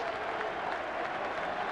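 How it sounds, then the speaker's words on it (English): Crowd applause fills a football stadium after an FA Cup sixth-round match between Everton and Newcastle United, a dense, continuous wash of clapping from a large crowd with no break. "Sir John Hall clapping the efforts of both teams"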